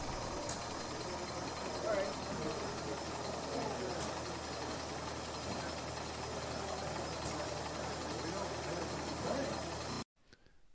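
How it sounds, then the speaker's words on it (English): A model steeple engine built from bar stock runs at an exhibition, giving a steady mechanical whir with faint periodic ticks throughout until it cuts off abruptly near the end. "This is a steeple engine built from bar stock."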